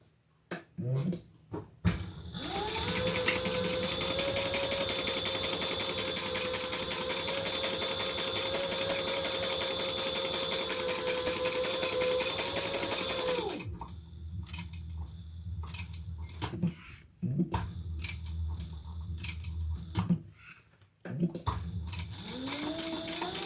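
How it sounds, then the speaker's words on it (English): A sewing machine top stitches both sides of a crossbody bag, a loud steady run with a fast even stitch beat lasting about ten seconds. Short bursts and handling noises follow. "let's top stitch on both sides there"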